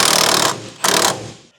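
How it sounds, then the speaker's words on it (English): A Milwaukee impact wrench (rattle gun) fitting an angle kit on a car's suspension fires in two loud, close bursts of rapid hammering, the first about half a second long and the second shorter after a brief pause. "I use my Milwaukee rattle gun, best results."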